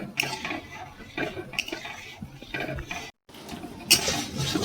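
Palm kheer, a milk pudding with palm and sugar, being stirred in a pot, giving close, repeated scraping and clinking of a spoon against the metal with a brief pause midway.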